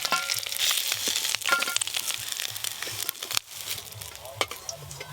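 Aubergine pieces with salt and turmeric sizzle and spit in hot oil, loud and close, with crackles and scraping stirs over the steady fry.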